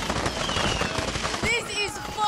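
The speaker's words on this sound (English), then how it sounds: "Oh, the fireworks!" Rapid crackling bursts of fireworks exploding in the Far Cry 6 video game, dense popping with whistling streaks, while a person talks excitedly over them.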